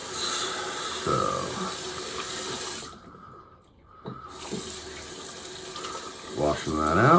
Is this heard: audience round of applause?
no